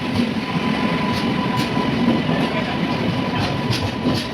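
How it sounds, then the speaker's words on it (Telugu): A train pulls into a railway station with a loud, steady rolling rumble and faint rhythmic wheel clatter, close and continuous throughout with no talk. "ఫైనల్లీ మా ట్రైన్ వచ్చింది"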